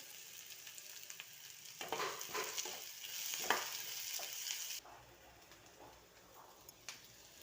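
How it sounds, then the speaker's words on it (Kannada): Carrot pieces fry in a pan with mustard seeds, onion and curry leaves, giving a steady close sizzle and occasional stirring scrapes. "ಅದಕ್ಕೆ ಕ್ಯಾರೆಟ್ ಇದು ಸ್ವಲ್ಪ ಫ್ರೈ ಆಗಬೇಕು"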